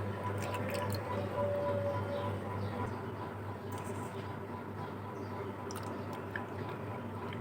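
Water-based kulfi mixture with sugar being poured into kulfi molds, producing soft liquid trickling and dripping sounds over a steady low kitchen hum, with no talk.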